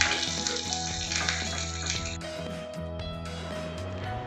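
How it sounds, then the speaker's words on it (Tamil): Mustard seeds, curry leaves and dried chillies are tempered in hot oil for a hotel-style coconut chutney, giving a close, crackling sizzle that changes tone partway through and then keeps hissing steadily. "இப்போ நம்ம கடுகு போட்டுக்கலாம். நம்ம கருவேப்பிலையும் காஞ்ச மிளகாயும் போட்டுடலாம்."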